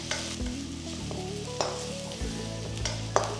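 Sliced onion frying in a pan crackles and sizzles steadily at close range, with a spatula scraping and clinking against the pan a few times, and no voices.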